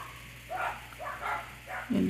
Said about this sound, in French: Il y a des petits chiens nerveux dans mon secteur.